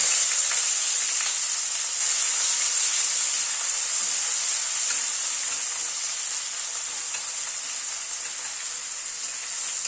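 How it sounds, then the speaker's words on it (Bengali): Chopped onion frying in oil in a pan over a medium gas flame, a steady bright hiss of sizzling that holds evenly for ten seconds with no talking. "পেঁয়াজটাকে আগে একটু হালকা করে ভেজে নিচ্ছি, গ্যাসের ফ্লেমটাকে মিডিয়ামে রেখে।"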